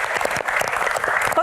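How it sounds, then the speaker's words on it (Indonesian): A studio audience at a televised Q&A panel claps steadily in dense, close applause, with a voice faintly audible beneath it. "Tepuk tangan dong, teman-teman."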